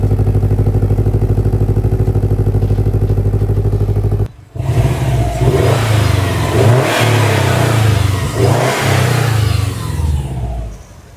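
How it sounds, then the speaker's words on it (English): A 2019 Subaru WRX STI with an Invidia exhaust, started cold, holds a loud droning idle, then revs hard with rough, popping burble on the overrun, close and without talk. "I heard a little burble in there. We got a burble."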